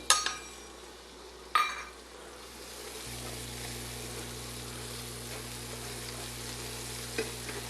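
A couple of sharp utensil clacks come first, then shallots hit a pan turned down to lower heat for braised creamy mustard chicken and settle into a soft, even, continuous sizzle with one late tap.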